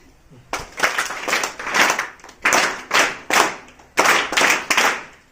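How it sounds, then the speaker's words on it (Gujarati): An audience claps in unison to honour guests at a donation event, giving sharp rhythmic bursts of group clapping in quick sets and loud in the room. "ત્રણ તાળીથી સન્માન કર્યું."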